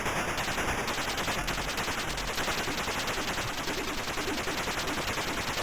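Continuous rapid gunfire in the Atari ST video game Resolution 101 rattles steadily and loudly, with a regular fast rhythm and no pauses.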